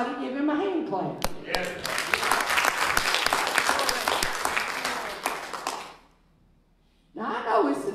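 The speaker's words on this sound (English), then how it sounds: "somebody give him a hand clap." A church congregation claps together in a long, dense burst of applause that fills the sanctuary for several seconds, then stops abruptly before a voice resumes.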